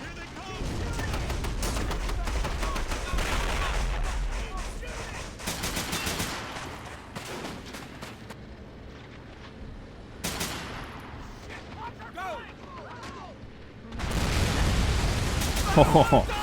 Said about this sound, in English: Here's a squad leader with his Thompson. Submachine gun.